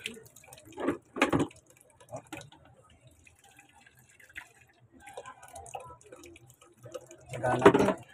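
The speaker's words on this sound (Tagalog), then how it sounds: "Mahina ang tulo." A weak trickle of water drips from a tap in a home laundry setting, with faint, scattered drips and short splashy bursts under quiet background sounds and a brief voice.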